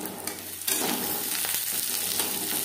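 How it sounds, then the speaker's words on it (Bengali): Chopped onions dropped into oil that was used to fry chilies, bursting into a loud, close sizzle that stays dense and steady, with no voices. "লঙ্কা ভেজে নেওয়া তেলে দিয়ে দেব পেঁয়াজ কুচি। পেঁয়াজ লালচে করে ভেজে নেব।"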